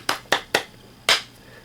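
Four sharp hand claps, the first three quick and evenly spaced, then a short pause before a slightly longer, louder final clap, close and clear in a quiet room.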